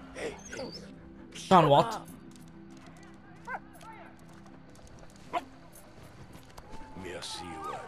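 A dog in the video game Valiant Hearts gives a sharp bark and whimpering yips, with padding footsteps and faint game sounds as a voice speaks briefly.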